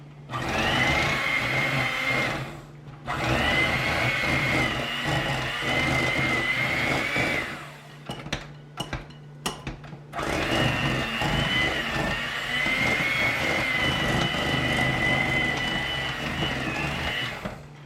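Electric mixer whirring steadily through cake batter with sugar, a loud continuous drone that pauses briefly with a few clicks and knocks before running again.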